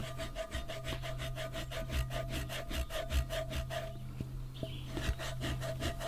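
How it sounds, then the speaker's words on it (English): Steady rhythmic scraping as a rust eraser is rubbed back and forth over rusty cast iron cookware, close and even, with a continuous low hum underneath and a brief pause near the end. "begin scraping away the rust with a rust eraser"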